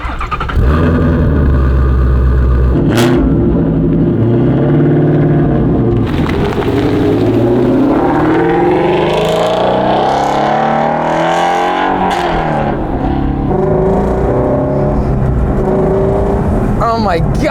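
Ford Shelby GT350R driven on the road, its engine revving up and down in loud rising and falling sweeps close to the microphone, with gear changes breaking the pitch and a person talking over it.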